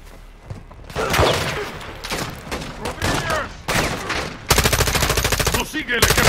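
Loud gunfire in the video game Game of Thrones Winter is Coming: scattered heavy shots and bursts, ending in a rapid machine-gun volley, close and harsh.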